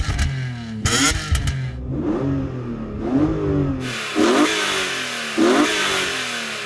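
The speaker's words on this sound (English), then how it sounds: "this is what the car sounds like when you rev it while stationary from its exhaust" Loud engine of a stationary BMW E46 M3 CSL revved repeatedly, several rising roars from the exhaust that fall back to idle between blips.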